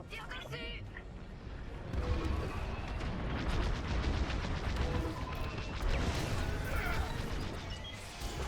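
Starfighter gunfire in the Star Wars Squadrons space combat game comes as dense rapid bursts of blaster shots over rumbling explosions and engine noise, steady and busy throughout, with someone speaking French over the action.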